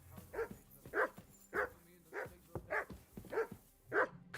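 Dog barking in the video game Kingdom Come: Deliverance 2, seven evenly spaced barks in a steady rhythm, close and moderately loud, with no talk.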